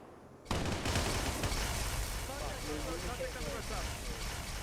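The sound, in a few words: Shade turret firing in Halo video game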